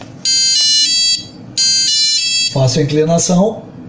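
ESP32 alarm set off by an SW-520D tilt sensor: two sustained electronic beeps, each just under a second long and separated by a short gap, loud and close, followed by someone speaking.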